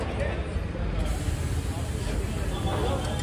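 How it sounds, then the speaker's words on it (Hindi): Spray paint hissing steadily as a car brake caliper is coated red, a continuous broadband spray close up and fairly loud, with traffic-like background noise under it. "इस ब्रेक के ऊपर जो स्प्रे जा रहा है"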